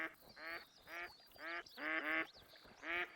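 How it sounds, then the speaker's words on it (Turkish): Ducks quacking in the hunting game theHunter: Call of the Wild, a series of about seven nasal quack bursts in uneven rhythm, fairly faint and heard alone. "Evet arkadaşlar sonunda ördekler geldi."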